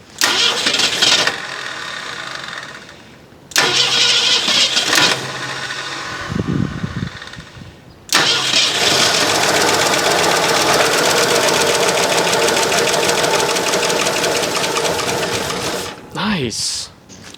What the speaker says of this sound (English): Let's see if we can get it started again.